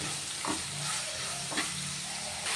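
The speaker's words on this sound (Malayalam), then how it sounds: "ഒരു മീഡിയം ഫ്ലെയിമിലിട്ട് വഴറ്റിയാൽ മതി." Onions sautéing with salt in a pan over a medium flame, a soft continuous sizzle with a couple of gentle stirs, heard close and fairly quiet.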